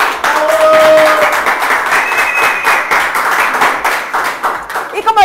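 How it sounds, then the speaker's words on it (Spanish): A crowd applauding loudly, dense clapping that swells and then thins, with a few whistles or cheers mixed in near the end. "Un aplauso para ellos."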